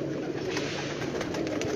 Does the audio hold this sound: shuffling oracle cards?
no